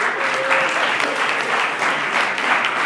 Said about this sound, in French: je vous demande même d'applaudir toute l'assemblée